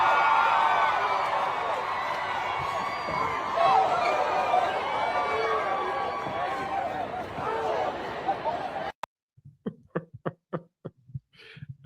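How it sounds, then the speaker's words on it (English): A crowd at a live event gasps and murmurs in reaction to someone stumbling, a dense, loud wash of voices lasting about nine seconds before breaking off into scattered, closer speech. "Listen to the crowd on the second stumble."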